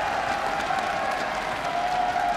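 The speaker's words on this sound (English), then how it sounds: "This crowd is electric for you guys." Live crowd at a Rocket League esports world championship match, a dense, loud wash of applause and cheering that holds steady throughout with no clear breaks.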